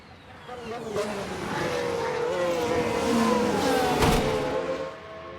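A Ferrari Formula 1 car in the F1 Manager 22 game, racing as a 1992 Ferrari. Its engine whines and revs, swelling louder toward the middle and easing off at the end, with a commentator talking over it.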